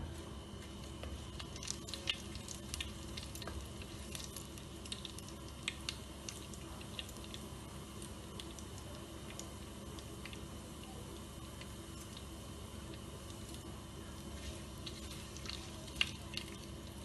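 Whole cumin and mustard seeds frying in hot oil for a tadka: a quiet, continuous sizzle dotted with small irregular pops and crackles, steady throughout with no talking.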